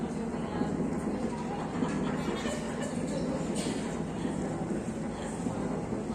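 Rumbling train ambience in a station during a theatre stage performance, a steady dense low rumble with faint rattling that holds evenly throughout.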